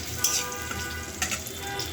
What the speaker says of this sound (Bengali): এখন ডালটা সম্বার দেওয়ার জন্য এখানে পেঁয়াজ আর শুকনো মরিচ দিয়ে দিচ্ছি।